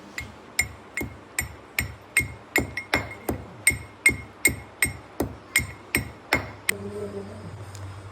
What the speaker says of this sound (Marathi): आता बारीक अशी मिरची ठेचून घ्यायची आहे